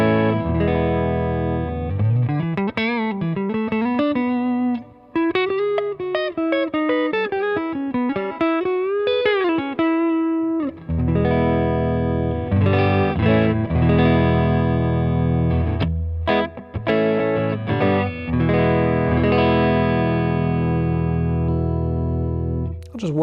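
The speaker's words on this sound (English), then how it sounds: "I'm just taking this guitar straight into a Milkman 10-watt pint. Nothing crazy going on, a little reverb on the amp." Fender American Professional Classic Telecaster on its neck pickup, played straight into a Milkman 10-watt amp with a little reverb: clean, sustained chords and single-note runs with ringing tails, loud and alone without talk.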